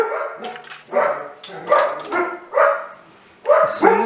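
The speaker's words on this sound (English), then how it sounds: "the dogs go psycho" Dogs bark in repeated bursts close by, excited yelps spaced across the moment, with some voice-like overlap among the barks.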